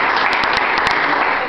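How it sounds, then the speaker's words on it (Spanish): Loud, sustained applause from an audience at a welcome ceremony, dense clapping filling the whole stretch with a few sharper individual claps standing out. "a quien le debemos dar un fuerte aplauso"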